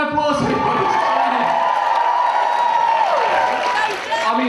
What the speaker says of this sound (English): Big round of applause for you.